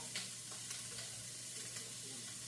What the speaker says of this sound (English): pork sausage, which is cooking over there, if you can hear it.